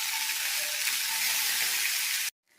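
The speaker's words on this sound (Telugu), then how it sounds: "దీనిలోనికి పచ్చిమిరపకాయ ముక్కలను వేస్తున్నాను." Green chilli pieces fry in hot oil with mustard seeds, a dense, loud, steady sizzle that cuts off abruptly near the end.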